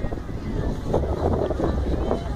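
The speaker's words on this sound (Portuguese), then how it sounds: "O vento tá loucão, né?" Strong gusting wind buffets the microphone at an outdoor kite festival in Osasco, producing loud, uneven low-frequency roaring throughout, with a voice faintly present beneath it.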